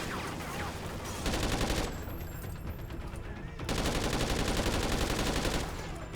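Call of Duty Ghosts gameplay with dense, rapid bursts of automatic gunfire that drop out briefly and then resume, loud and close.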